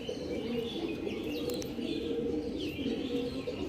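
Pairs of Kalanka pigeons coo steadily in low rumbling tones, with a few brighter chirps and a faint flutter mixed in, moderately close.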